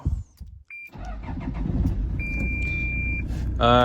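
A car engine cranks and catches, then settles into a steady low idle heard from inside the hot cabin, with a thin electronic whine and a brief beep-like tone over the rumble.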